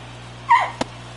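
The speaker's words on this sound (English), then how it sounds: "I don't know if you can hear my dog in the background." A single brief, high whine from a pet dog begging for food rises faintly in the background over steady low hum, followed by a small tap.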